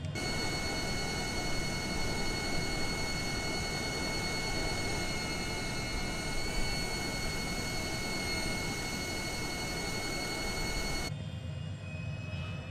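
A HondaJet HA240 in Microsoft Flight Simulator 2020 gives a steady, loud jet engine drone with a high whine, continuous for several seconds before cutting sharply to a quieter hum near the end.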